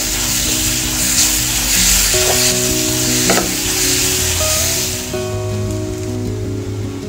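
Coarsely ground green peas fry with spices in a pan for kachori filling, giving a loud, dense sizzle under repeated stirring and scraping. A few tonal clinks ring out, and the sizzle eases a little toward the end.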